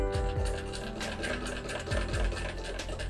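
A sewing machine stitching a strip of fabric during slow neck-shape practice, running as a steady continuous mechanical whir with faint rhythmic ticks, close and alone without talk.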